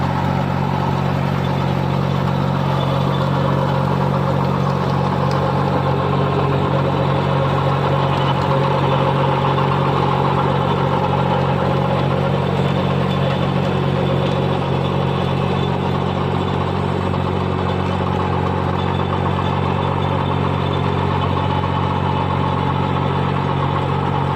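A New Holland 3630 4x4 tractor pulling an 8-foot Dashmesh super seeder while sowing wheat gives a loud, steady diesel engine drone that holds at an even pitch throughout, with no voices.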